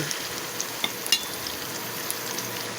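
Liver hits a hot pan of sautéed aromatics and sizzles in a continuous, moderately loud frying hiss. A few small pops and a brief utensil tap break through, and no one speaks.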